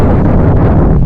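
Strong wind buffets the microphone in a loud, continuous low rumble with gusty roaring, no voices.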